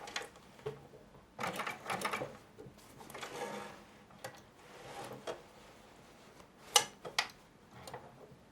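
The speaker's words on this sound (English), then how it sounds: "the automatic buttonhole stitches on my sewing machine." A sewing machine sews an automatic buttonhole in heavy denim in short bursts of rapid stitching, pausing between runs, with sharper mechanical clicks near the end; close and fairly quiet.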